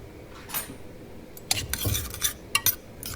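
A spoon stirs shrimp boil ingredients with melted onions in a metal pot, giving sharp, close scraping clinks in quick uneven bursts after a quiet start.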